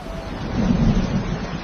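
Rain falls steadily in a village while a low thunder rumble swells briefly in the middle of a short, close, continuous wash of noise.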